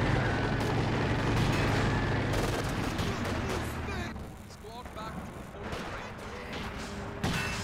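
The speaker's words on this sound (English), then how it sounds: "Dive bomb. Easily dodged." Heavy explosion from a dive bomb strike in Company of Heroes 2, a World War II strategy game, amid loud, sustained gunfire and artillery rumble, with commentary spoken over the battle.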